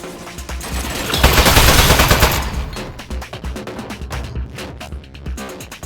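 Turret gunfire in the Aperture Desk Job video game: a loud, dense burst of rapid automatic shots that peaks early, then thins into scattered shots and clatter for the rest of the stretch.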